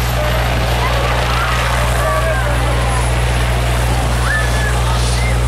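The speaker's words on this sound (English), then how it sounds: "What an awesome landing. So we have Henry 1, the Sonoma County helicopter." The Sonoma County sheriff's helicopter lands outdoors at a community night-out event, its rotor and engine making a steady, loud, droning roar that fills the whole stretch.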